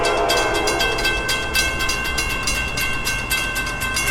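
A CSX freight train passes at night, a steady loud rumble of rolling cars with a sustained horn-like tonal hum running through it, continuous and close with no talking.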